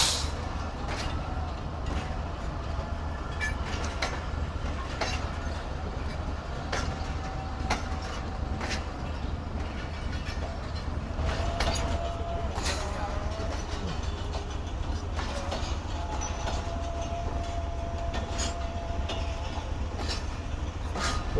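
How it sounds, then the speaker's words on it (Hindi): A passing train overtaking a moving passenger train in Pakistan, heard from inside the carriage as a continuous loud rumble with rhythmic wheel clicks and rattling, steady throughout without talk. "तो ये फ़िलहाल तो हमारी ट्रेन से आगे निकल रही है"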